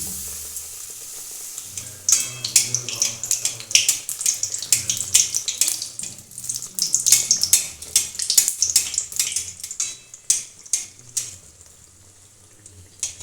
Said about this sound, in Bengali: বেগুনটা বেসনে ডুবিয়ে ঠিক এইভাবে ঝেড়ে নিয়ে তারপর তেলে এইভাবে দিয়ে